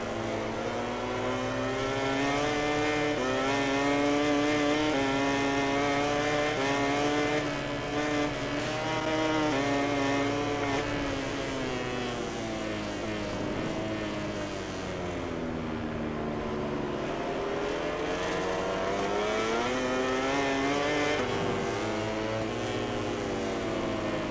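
A racing motorcycle engine in the video game MotoGP 20 runs loud and steady with no talk over it, its pitch rising and falling through repeated gear changes and throttle sweeps as the bike takes a circuit's corners.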